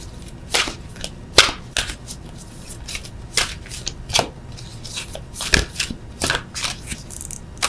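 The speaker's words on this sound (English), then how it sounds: "I'm going to just pull one of these beastly cards" Tarot cards being shuffled and pulled, giving a run of crisp, irregular riffling snaps and slaps up close, with no talking.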